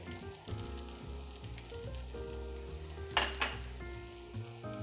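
Garlic fries in a steady sizzle filling a pan, with a brief metallic clatter of a utensil near the end.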